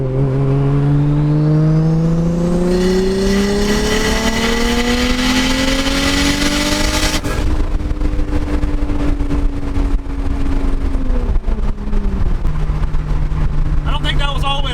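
A street-tuned car's engine pulled hard in one long, loud, close rev that climbs steadily toward the red line, then lifts off and drops back to a lower drone, with no talking.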